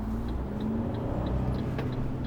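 A car pulls away from a stop into a roundabout, a steady low engine rumble running close and even throughout with no talk.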